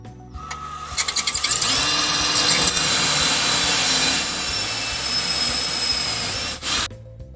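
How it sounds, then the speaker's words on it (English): A power drill bores out rivets on the door lock actuator of a 1989 Chevy K1500 truck, a high whining spin-up that grinds in bursts, then steadies and cuts off abruptly near the end. "So I'm gonna get a drill and drill them out."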